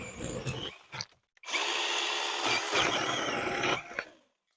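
A cordless pole chainsaw whines in short bursts, then bites into a tree branch with a long, loud buzzing cut before cutting out.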